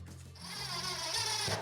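Power drill pre-drilling screw holes in a cabinet door on a corner lazy Susan cabinet, a close rising whine that spins up and holds steady for over a second.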